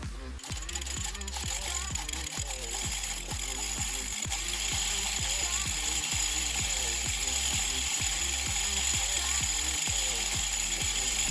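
Bicycle pedals turned backwards with a chain cleaner tool clamped on the chain, the freewheel ratcheting in a steady run of quick, close clicks throughout.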